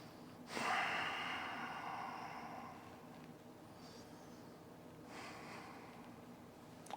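Slow yoga breathing during a full-body flexibility practice, a strong close nasal inhale-exhale followed by a softer second breath a few seconds later, with no talking.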